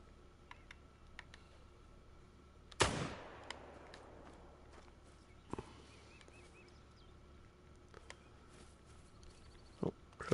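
A single sharp gunshot rings out near the start, followed by a few fainter, scattered cracks and ticks over a quiet outdoor background during e-collar training with a dog.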